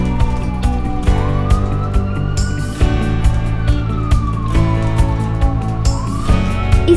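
An ambulance siren wails, sweeping up and down in pitch over steady road rumble and rhythmic clicks, loud and fairly close, with no talking.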